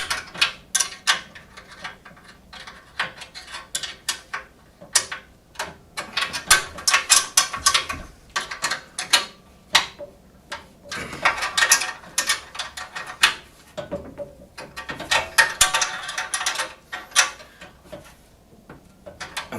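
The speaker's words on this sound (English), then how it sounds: "So I can tighten up all 6 bolts." Ratchet wrench tightening six bolts on the handle of a Hyundai HYT140 garden tiller cultivator, a series of quick clicking bursts in several separate runs, close and moderately loud with pauses between.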